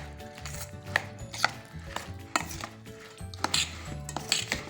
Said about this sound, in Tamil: நல்லெண்ணெயோடு சேர்த்து கலக்கிடுவோம்.